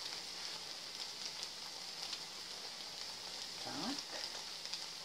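Gnocchi fry in a large pan with a soft, continuous sizzle and crackle, fairly quiet and close, with a brief stirring or scraping sound near the middle and no talk.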